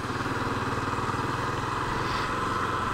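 A Honda CB Twister 250 motorcycle engine runs close by with a steady low pulsing throb while riding, with a faint whine over it.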